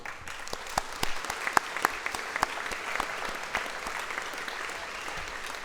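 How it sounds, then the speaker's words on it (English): Guests at a sports Hall of Fame induction dinner give the directors and the chair a round of applause. The clapping is moderate and scattered, with individual sharp claps standing out, and it gradually thins toward the end. "I think all these directors and Chair Anne all deserve another big round of applause."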